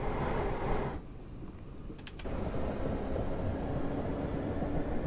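Electric suburban train on the Airdrie extension near Bellgrove, Glasgow, moving off under overhead wires, a low continuous rumble with a brief quieter dip and a couple of faint high clicks before the rolling noise resumes.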